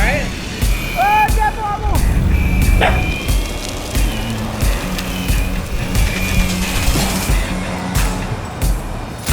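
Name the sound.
RC car doing burnout donuts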